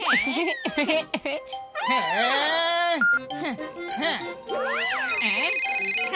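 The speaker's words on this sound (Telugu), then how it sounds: "అరే మళ్ళీ ఇప్పుడెవరు ఫోన్ చేస్తున్నారబ్బా?" A cartoon telephone rings in repeated bright electronic bursts, mixed with lively animated character voices, sliding tones and music-like effects throughout.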